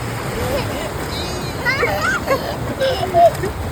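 Sea waves splash and wash up on the beach at Mandarmani, a constant watery rush with louder surges, while excited voices, including children, call out over it.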